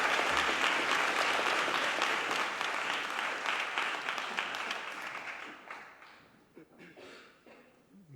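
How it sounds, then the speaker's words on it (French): A large audience applauds loudly and densely after a presentation at the Conseil d'État in Paris, then fades to scattered claps toward the end. "un tonnerre d'applaudissements pour monsieur Théo Fouque"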